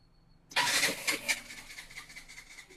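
A KTM RC 125 motorcycle engine cranks and catches with a sharp start, then settles into a steady mid-pitched idle with small revving pulses, heard up close in a second-hand bike showroom in Kolkata.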